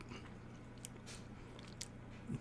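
A crunchy dark chocolate cookie gets bitten, giving two or three short, faint crisp crunches close up in a quiet room, with no talking.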